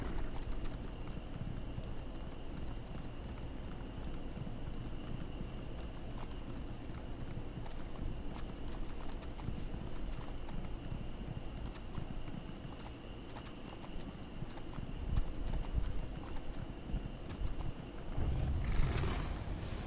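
Horse hooves clip-clop steadily in a video game, a continuous even trot over soft ambient background, with faint birdsong and a louder thud near the end.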